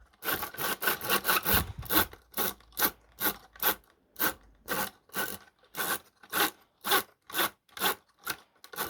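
3D printed gear turning on an unlubricated axle, a close repeated dry scraping rasp in even strokes, roughly two per second, with no voices.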